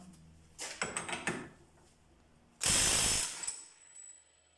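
DeWalt DCF894H impact wrench loosening a bolt torqued to about 516 newton meters, with two short bursts of rattling hammering, the second louder and longer, each ending in a faint whine.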